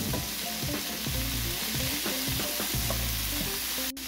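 Noodle ingredients sizzle in a pan, giving a constant loud frying hiss. Scraping and stirring knocks from a utensil against the pan sound close by, with no talking.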